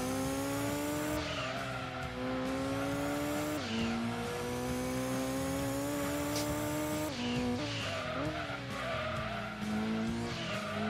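A racing car engine in Gran Turismo 2 drones steadily and loudly throughout, its pitch sliding down and climbing again through gear changes, with tire squeal and skidding as the car corners.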